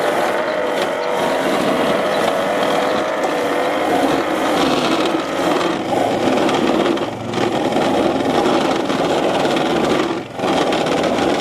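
Petrol Westermann block paving weed ripper running steadily with a continuous mechanical drone and rattling, clattering brush or gear noise, loud and close throughout with no talking.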